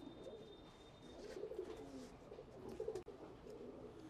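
Black Dubaj pigeons cooing softly in a loft, low throaty coos rising and falling over a steady background hiss, with a faint thin tone early on and a brief click near the end.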